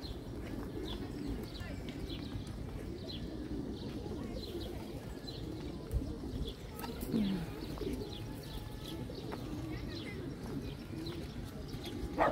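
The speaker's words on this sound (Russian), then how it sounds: "здесь очень много голубей" Pigeons coo in Globa Park in Dnipro, Ukraine, soft low calls repeating under faint park ambience and scattered distant noises, with no talking.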